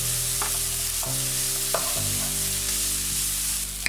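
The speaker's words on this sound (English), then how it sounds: "we want to fry the onions until they're brown, not burnt, just very dark brown" Onions, garlic, chilli, cardamom, cinnamon and cumin seeds frying in a pan, a steady loud sizzle with a few scraping stirs and clacks from a spoon, continuous and close, no talking.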